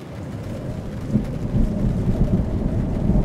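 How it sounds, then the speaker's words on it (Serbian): Thunder rumbles under steady rain during a storm outside a camper, a low continuous roar with heavier swells from about midway, no voices. "cepaju gromovi napolju"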